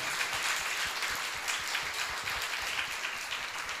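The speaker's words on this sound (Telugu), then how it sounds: "సంతోషంగా ఉన్న వాళ్ళందరూ గట్టిగా చప్పట్లు కొట్టండి" A church congregation at a New Year service claps loudly together, a dense continuous burst of many hands filling the room for several seconds with no talking.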